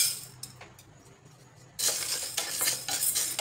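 Cowpeas poured into a pan for dry roasting make a sudden rattling, clattering rush of small dry grains hitting metal, continuing as a busy scatter of clinks after a quieter start.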